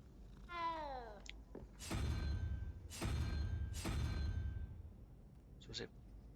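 Cat being petted in Hogwarts Legacy: a rising meow followed by several broad, rough purr-like bursts with low rumbling underneath, close and fairly loud, with brief clicks at the end.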